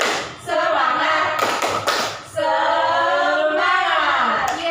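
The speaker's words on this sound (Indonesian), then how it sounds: "Ya, ulang lagi. Tepuk semangat." A primary school class claps in rhythm during a spirit-clapping routine, with sharp hand taps mixed under loud group chanting voices.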